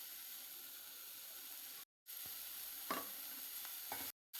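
Mushrooms sauté in a spiced masala in a pan, giving a steady broadband sizzle with a few soft stirring scrapes, briefly cut by two short gaps.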